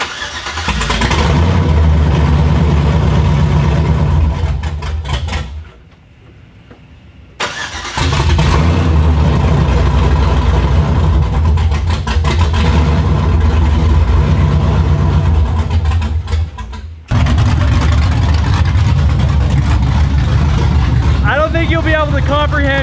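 A loud 2004 Chevy Silverado pickup engine with a stage 4 cam and long tube headers roars and revs repeatedly, cutting out briefly and returning, with people talking over the noise.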